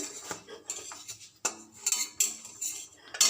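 Metal clinks and scrapes of a lid and utensils on a pan while cooking chitoi pitha, several sharp close knocks and rattles in an uneven sequence, with no talking.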